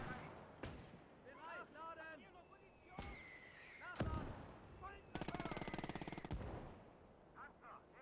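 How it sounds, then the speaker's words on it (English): Artillery and gunfire in a WW2 real-time strategy game set in the Battle of the Bulge: sharp booming impacts and a rapid burst of machine-gun-like fire, mixed with game voices and someone talking over it. "I feel like our artillery, if they can fire at these troops, they should be."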